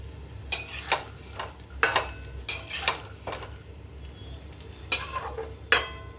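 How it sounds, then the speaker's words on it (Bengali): Potatoes and pointed gourd being stirred in a frying pan, a run of irregular spoon scrapes and clatters against the metal over a low sizzle, close by and fairly quiet, with no talking. "ভালো করে মিশিয়ে দিই।"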